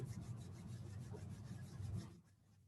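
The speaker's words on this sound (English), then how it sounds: "rub your palms. Good, nice and fast, you build up some heat." Two palms rubbed together quickly and steadily to build heat during a breathing and meditation practice, a close, continuous dry swishing friction that stops abruptly near the end, with no voice.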